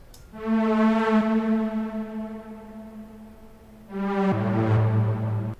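Bright sustained Serum synth chords play with a washy reverb tail, one held chord giving way to a lower, fuller chord near the end.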